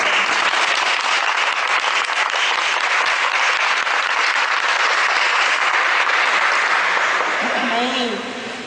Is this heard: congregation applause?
yes